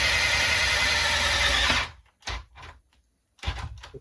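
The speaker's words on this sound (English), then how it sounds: "The drill is smoking. You can see the smoke, but hey, walnut wood is a really hard wood." A power drill bores into hard walnut wood for an electric guitar build, a loud steady whine for about two seconds, then stopping, followed by a few short knocks and handling sounds.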